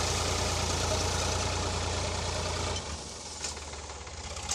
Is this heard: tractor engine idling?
yes